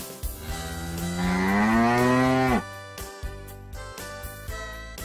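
A cow lets out one long, rising, drawn-out moo lasting a couple of seconds, loud and close, followed by a few soft knocks and clicks.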